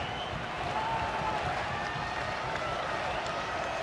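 A baseball stadium crowd of nearly ten thousand fills the air with steady cheering and applause late in a game, a dense continuous wash of noise with a commentator speaking over it.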